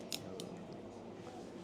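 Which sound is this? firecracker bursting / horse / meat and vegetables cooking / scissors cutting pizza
scissors cutting pizza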